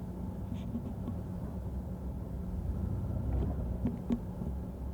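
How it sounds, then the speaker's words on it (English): A car cruising around Fort Dix, New Jersey, on a windy afternoon in 1985, a low steady interior rumble heard from inside the vehicle with faint wind noise and no talk. "We're just cruising the fort now in the car on a Friday afternoon"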